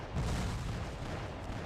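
An explosion in a Civil War video game gives a loud, dense rumbling boom that fills the short stretch, with crackling gunfire-like texture and no talk.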